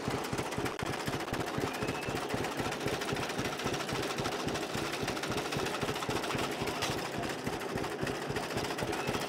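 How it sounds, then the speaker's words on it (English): John Deere Model A tractor running with the PTO engaged to drive a hydraulic pump, its two-cylinder engine putting out a steady, rapid, even knocking chug throughout, fairly close and unbroken, with no talk. "So I'm going to enable the PTO, and again it's going to run the implement since that's the pump."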